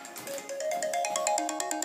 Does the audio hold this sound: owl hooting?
no